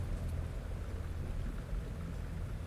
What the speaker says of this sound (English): I take a few minutes just to listen to the rain.